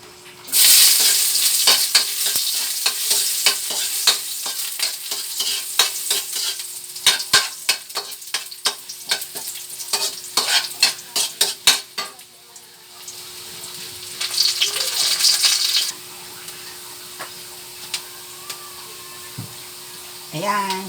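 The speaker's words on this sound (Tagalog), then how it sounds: "Gigisa na muna tayo" Onions sautéing in a frying pan for a sweet and sour dish, a loud sizzle broken by bursts of sharp spatula scrapes and clatter, then quieter frying with a steady hum underneath.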